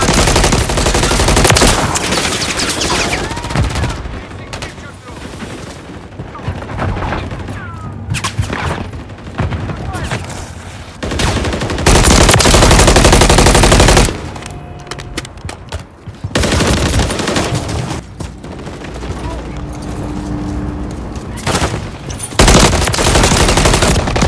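Call of Duty: Modern Warfare 3 multiplayer gunfire, with loud, dense bursts of automatic weapons and scattered shots crackling almost continuously, broken by short lulls and game voices calling out.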